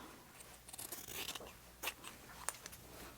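Scissors snipping through a quilt fabric strip, a few soft close cuts over faint background hiss.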